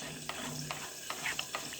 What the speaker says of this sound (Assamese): ইয়াৰ লগতে কাঠআলু ফ্ৰাই কৰি আছোঁ।